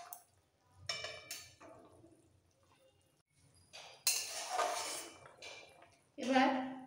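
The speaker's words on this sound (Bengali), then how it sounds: "এবার দিয়ে দিচ্ছি ভেজে রাখা ঢেঁড়স।" Fried okra is tipped into a pot of potato curry with a few separate clattering bursts of pan and spoon contact, some liquid bubbling, and quiet gaps between them.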